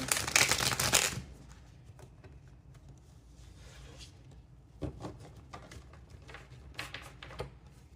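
Tarot cards being shuffled and drawn for a reading, a dense burst of riffling for about a second up front, then quieter scattered card handling with soft taps and slides.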